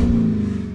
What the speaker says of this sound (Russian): Погазуем.